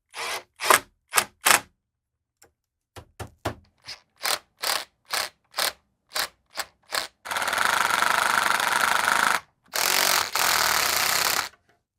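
A drill driver driving pocket hole screws into a wooden 3D printer filament rack on a table, with a run of short clicking bursts followed by two sustained loud screwing whirs, up close, with no speech.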